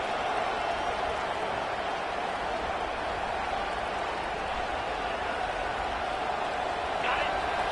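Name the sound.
stadium crowd cheering loudly at college football game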